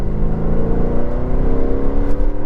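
A 2010 Mercedes C63 AMG with a paddle-shift automatic downshifts as it slows, its engine giving a loud, close, continuous growl with slowly shifting pitch.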